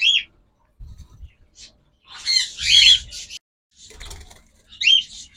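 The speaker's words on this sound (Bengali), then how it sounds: "যারা কিং কোয়েল পাখি পছন্দ করেন তারা এই পাখিগুলো দেখতে পারেন" Small king quail birds at a bird farm give short squawking calls in several bursts, loud and close, separated by quiet gaps and soft low bumps.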